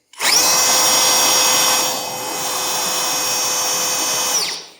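A cordless ONEVAN leaf blower with a 4.5 Ah battery whirs at a high, steady pitch, dips briefly midway, then keeps running loud and close before cutting off.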